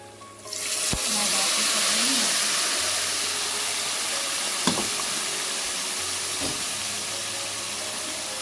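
Garlic tempering for a chili pickle sizzles and crackles in hot oil, a loud steady hiss that begins abruptly, with a few sharp clinks and stirring knocks breaking through.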